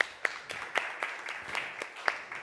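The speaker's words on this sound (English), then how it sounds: "A round of applause" A conference audience gives sparse, scattered applause after a presentation, with a handful of distinct claps over a quiet room and no voices on top.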